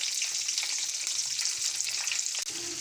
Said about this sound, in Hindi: बैंगन हमने सारे डाल दिए, अब इनको फ्राई होने के लिए रख देंगे।